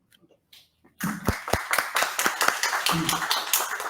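Applause at a conference commemorating the US Declaration of Independence, starting after a second of faint sounds, then a burst of clapping with close, sharp hand claps over a crowd.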